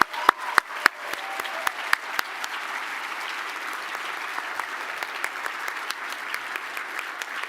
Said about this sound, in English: A big round of applause for these incredible dedicated students.